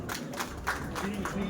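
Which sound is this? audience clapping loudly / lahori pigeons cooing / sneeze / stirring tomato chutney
audience clapping loudly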